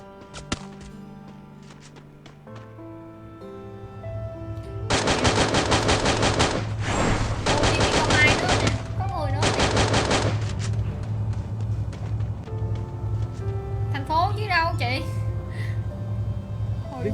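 Gunfire in the video game Garena Free Fire crackles in rapid automatic bursts, loud and sustained for several seconds, over a steady game soundtrack, with people talking throughout.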